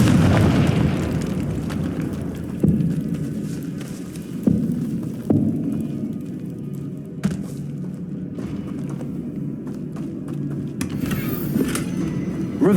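Repeated magical blasts from the Confringo fire spell in Hogwarts Legacy, several booming bursts at irregular intervals over a continuous low rumbling game soundscape.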